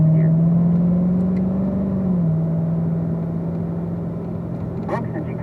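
A Chevrolet Corvette Z06 with an automatic gearbox on a racetrack, heard from inside as a loud, steady engine drone whose pitch dips briefly as it upshifts into fourth gear, with a voice talking over it.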